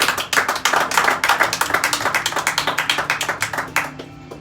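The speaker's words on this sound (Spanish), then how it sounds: "dele palmas al Señor" A church congregation claps together in a fast, steady rhythm of sharp, loud hand claps that carry on for about four seconds before stopping abruptly into a quiet room.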